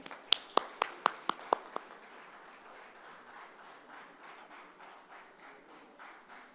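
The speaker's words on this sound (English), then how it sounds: "Big round of applause as she walks in." An audience applauds as an awardee walks up to a podium, starting with a few sharp nearby claps and settling into soft, steady clapping from a small crowd in a hall.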